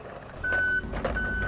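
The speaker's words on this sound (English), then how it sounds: "It's my old friend Corky Concrete coming down the driveway with his magic cement truck." Reversing beeps from a cement truck backing down a driveway: two long, steady electronic tones, loud and close, over low engine rumble.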